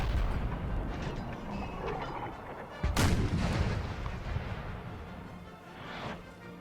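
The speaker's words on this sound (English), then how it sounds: "They have halted their artillery fire, I say, as one of them actually does fire." Cannon artillery fires in a Napoleon Total War battle at Lisbon: one heavy boom cracks out mid-way over a rumbling backdrop of distant gunfire, followed by a fainter report near the end.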